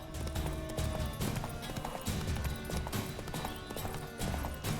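Horse hooves clip-clop in The Witcher 3 video game, a brisk steady rhythm of close, loud hoofbeats with occasional snorts, heard alone.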